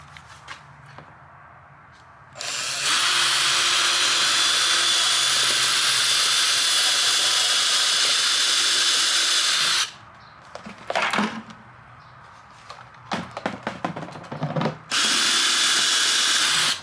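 Harbor Freight chuckless power drill running in long close bursts, a loud steady whirring spin with short pauses and brief stop-start pulses between runs.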